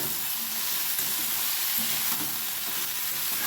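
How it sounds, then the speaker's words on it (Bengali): Chopped potato and pointed gourd fry in hot oil with a steady, even sizzle, close and constant with faint stirring scrapes throughout. "আর এখন হচ্ছে এই যে আলু আর পটল কুচিয়ে ভাজা"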